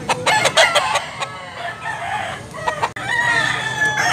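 A two-year-old Harold Brown Grey gamecock in Tabunok, Talisay, Cebu crows loudly and close by, with a few sharp clucks early on before the drawn-out, wavering cock-a-doodle-doo fills the rest.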